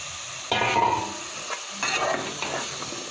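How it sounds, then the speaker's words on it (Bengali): Bottle gourd is stirred into fried spice paste for a dried-shrimp curry, with close scraping and clattering strokes in the pan over a steady sizzle and hiss, and no talking. "মশলা কষিয়ে নেওয়া হয়েছে, লাউটা দিয়ে নেড়ে ছেড়ে নেব।"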